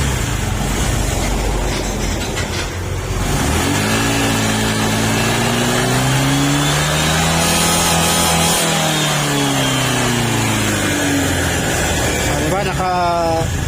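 A Honda Click scooter engine revved up in a steady rising and falling sweep, loud and close, with someone talking over it throughout.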